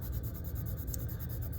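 The side of a pencil shades lightly across paper in a soft, continuous scratchy rub, close and quiet, with no voices.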